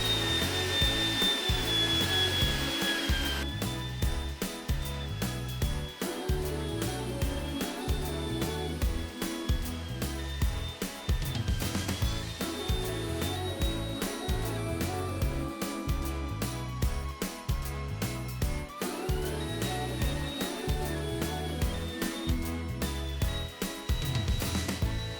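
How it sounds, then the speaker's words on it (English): A vacuum cleaner runs steadily and loudly over a couch covered in golden retriever hair, its whine shifting in pitch as the nozzle is pushed and pulled in repeated strokes for the whole stretch. "I'm going to vacuum my couch because I have a golden retriever"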